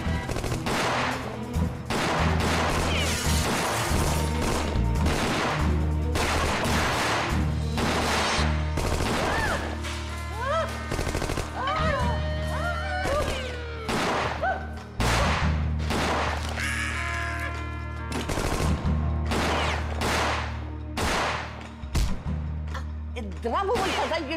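Rapid bursts of gunfire crack back and forth without pause, some shots overlapping in volleys, with shouting voices mixed in among the blasts.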